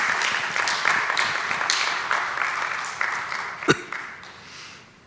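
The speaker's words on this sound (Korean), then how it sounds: "우리 박수 한번 더 보낼까요?" A church congregation applauds in a warm, steady burst of clapping for a few seconds. A sharp knock follows before the clapping fades.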